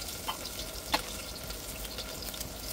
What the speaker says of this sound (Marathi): आता कांदे तेलामध्ये टाकून भाजून घ्यायचे